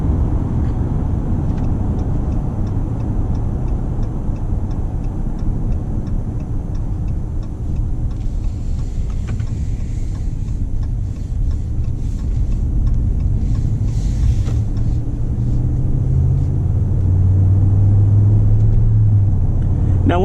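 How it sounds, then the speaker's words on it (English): A 2019 RAM 1500 Big Horn pickup's engine and exhaust drone steadily while driving, a low continuous rumble with road noise that swells slightly toward the end. "It sounds nice, good exhaust note right from the get-go, and just overall a nice solid sound."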